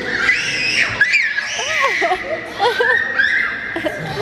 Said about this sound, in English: Oh my gosh, we got screaming girls.